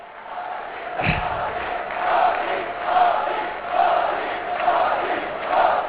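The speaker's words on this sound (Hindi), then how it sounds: "एक बार फिर तालियां बजाइए, स्वागत कीजिए, अभिनंदन कीजिए प्रधानमंत्री जी का।" A crowd at a public event in Madhya Pradesh welcomes Prime Minister Narendra Modi with a steady roar of applause and cheering that swells and ebbs in waves. One sharp thump sounds early.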